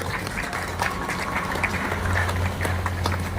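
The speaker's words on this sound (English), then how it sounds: "Round of applause for all the achievers." Crowd applause for school achievers, a dense, steady patter of many hands clapping at moderate distance, continuing evenly without a break.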